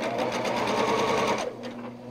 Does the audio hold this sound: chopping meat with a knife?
no